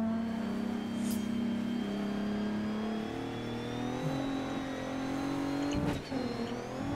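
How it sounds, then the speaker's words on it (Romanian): Rally car engine in the racing game Dirt 3 revs steadily with rising and falling pitch, loud and continuous, with a brief burst of louder noise near the end. "ce turez motorul când este în aer"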